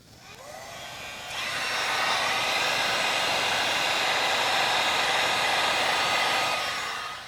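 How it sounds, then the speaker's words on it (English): A heat gun blows steadily on heat-shrink tubing while wiring a DIY bench power supply, a loud close whoosh that steps up in strength after the first second and holds without interruption. "So now I'm going to use the heat gun and shrink that tubing."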